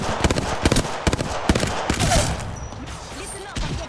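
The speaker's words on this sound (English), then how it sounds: "Listen up, I'm getting shot at." Gunfire rattles in the Apex Legends video game: rapid automatic bursts and single loud shots, close and sharp, then a busy stretch of combat noise that fades to quieter scattered shots.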